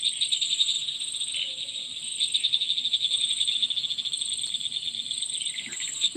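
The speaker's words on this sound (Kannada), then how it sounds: "ಈ ಕಪ್ಪೆಲೆ ಕಿರಿಕಿರಿ" Frogs calling during heavy monsoon rain in the Udupi–Dakshina Kannada region, a dense, steady high-pitched trilling chorus that carries on without a break, fairly close and with no voices over it.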